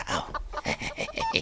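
Chickens clucking close by in a quick run of short, throaty calls, a few overlapping, with low farmyard rumble underneath.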